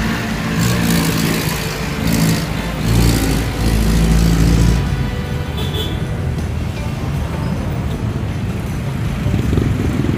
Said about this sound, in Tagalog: Traffic talaga kahit saan.